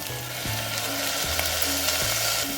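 Green beans and field beans frying in a pan for hotel-style upma, a loud continuous close sizzle with three spaced knocks of a stirring spoon against the pan; no voices.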